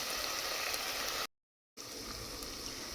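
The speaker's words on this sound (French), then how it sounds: "je laisse toujours la viande sauter dans l'huile" Beef sautéing in hot oil in a pan over lowered heat, a steady broadband sizzle that cuts out briefly to silence midway, then resumes at the same level.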